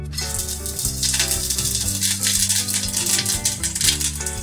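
Five-spice seeds and a split dried red chili crackle and sizzle in hot oil, a loud, dense frying hiss with popping throughout, up close.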